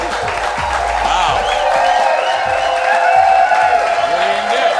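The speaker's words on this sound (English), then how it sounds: "You go to work and people clap for you." A studio audience applauds steadily and loudly, sustained clapping filling the room, with some cheering and voices mixed in.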